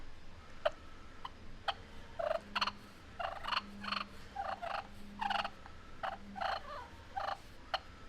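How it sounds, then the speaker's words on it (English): A friction turkey call gives a series of quiet, short yelps and clucks in an uneven rhythm, with the tone shifting as the bottom ports are alternately muffled and opened. "He's opening the hole, the ports on the bottom of the call, so the sound coming out of each side."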